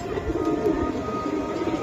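Giribaz pigeons cooing at a loft, a steady low murmur of overlapping coos with no clear breaks, close and fairly loud.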